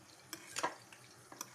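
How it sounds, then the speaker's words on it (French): Dates being fried in a pan for a date tajine give a soft steady sizzle, with a few light scraping clinks of a utensil against the pan, close and quiet. "Après, je vais les frire."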